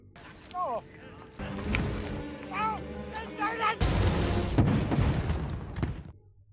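A film explosion erupts as a sudden loud, broadband blast midway and rumbles for over a second, set among shouting voices and other battle noise.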